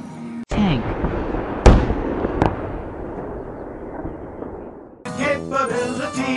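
A military tank fires: a sudden heavy blast opens a long rumbling decay, with two further sharp reports cutting through before the roar fades out.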